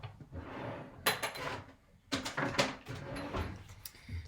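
A drawer slides open and shut with rattling, clattering contents as someone rummages for a prop, close and fairly quiet, in several bursts with brief pauses between them.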